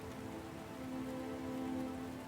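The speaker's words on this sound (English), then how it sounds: "We just need to get out of the rain." Steady rain falls outside a shelter, a constant close patter spread evenly over the whole stretch with a faint low hum underneath and no voices.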